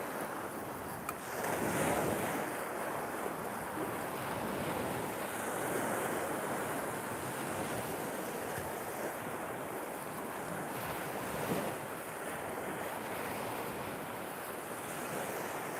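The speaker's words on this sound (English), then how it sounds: "This is my local beach." Waves and wind at Redcliffe beach in southeast Queensland, a continuous low wash of surf with gusty wind noise on the microphone, moderately quiet and steady, no voices.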